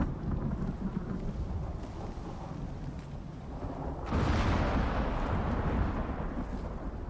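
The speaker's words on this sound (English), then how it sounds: "More lightning, more thunder." Storm ambience in the video game Icarus: steady rain and wind hiss, then a loud rolling thunder swell that lingers as a heavy, continuous rumble.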